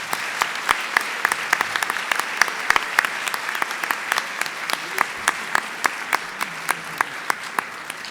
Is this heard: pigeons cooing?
no